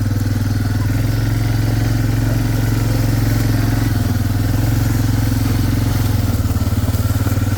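A vehicle engine drones steadily while driving, a loud, close, low rumbling hum with a pulsing idle-like texture that runs unbroken throughout.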